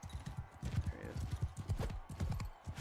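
Horse hooves clip-clop steadily in Mount & Blade II: Bannerlord, a fast, continuous galloping rhythm with game battle noise and someone talking over it.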